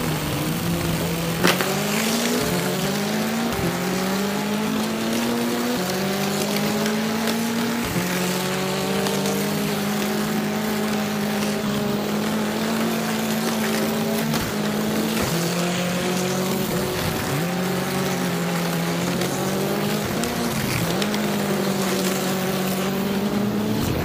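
Motorized diecast toy cars race around a track in a steady, continuous electric whine whose pitch rises and falls as they speed through the course, loud and close with no talk.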